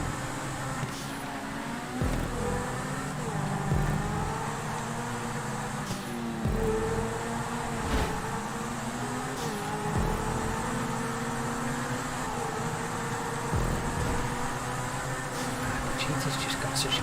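A Pfister 811 supercar in GTA 5 runs a race-track lap, its engine droning steadily with repeated rises and dips in revs as it works through corners, with a voice talking over it.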